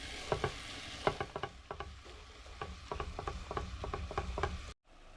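Ground meat and onions fry in a pan while a utensil breaks up the meat, giving repeated sharp taps and scrapes over a steady sizzle, close by, ending abruptly.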